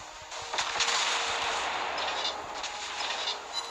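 Secondary guns on a battleship fire in World of Warships Blitz, a dense rumbling barrage of booms and blasts over a steady loud roar, with no voices.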